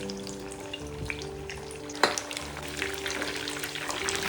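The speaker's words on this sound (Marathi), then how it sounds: "आता तळून घ्यायची मस्त गरम तेलामध्ये." Varan batti dumplings deep-fry in hot oil over a high flame, giving a close, steady bubbling sizzle with crackles throughout and one brief sharper clatter partway through.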